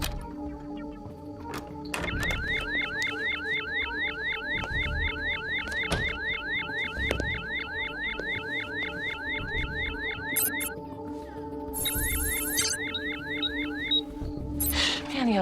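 A house security alarm goes off alone, a loud continuous electronic siren with rapidly repeating rising sweeps that pause briefly and then resume with a new pattern.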